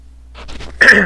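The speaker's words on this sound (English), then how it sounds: "Sorry for all my coughing here." A man coughs and clears his throat: a short rasping throat-clear followed by one louder, harsher cough. Close and alone, with no speech.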